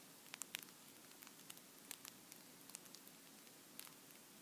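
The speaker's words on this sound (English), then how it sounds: "If you're really quiet, you can hear the bread crackling." Freshly baked sourdough loaves cooling on a wire rack give off a faint, sparse crackle, with tiny scattered pops and ticks over a quiet room hiss.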